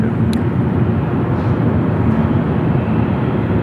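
A Spirit airliner takes off from Memphis International Airport, heard as a steady, loud, broadband jet roar that holds evenly throughout with no voices over it.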